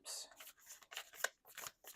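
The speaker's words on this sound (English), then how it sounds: "you heard me just bumping the table as I'm trying to shuffle" Cards are shuffled at a table in a quiet home nook, with soft bumps against the table. Several short, brisk riffling bursts come close and faint.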